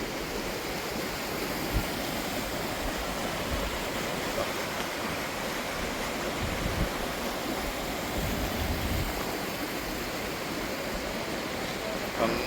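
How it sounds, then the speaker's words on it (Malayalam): Water pours steadily over Balamuri Waterfalls near Mysore, a continuous full-bodied rush heard up close and unbroken, with no talking on top. "വെള്ളം എല്ലാം കൂടി ഇങ്ങനെ ഒഴുകി വന്ന് ഇപ്പുറത്തൂടെ തന്നെ ഇങ്ങനെ പോകും."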